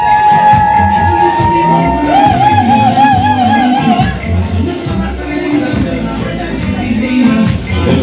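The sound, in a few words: wedding guests cheering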